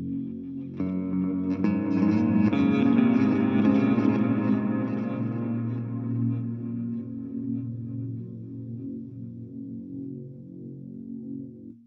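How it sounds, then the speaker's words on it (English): An electric guitar drone with infinite sustain runs through a TC Electronic Plethora X5 pedalboard, swelling into a dense, heavily reverberant wash that slowly decays into a softer sustained hum, with no voices. "my reverb is really big when I'm just setting up the drone"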